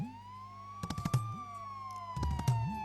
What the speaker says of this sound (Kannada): siren sound